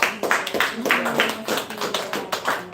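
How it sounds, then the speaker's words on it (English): Audience at a cannabinoid product presentation clapping in a round of applause, a series of close, uneven rhythmic claps in bursts, with a faint voice underneath. "Let's give Preston a round of applause."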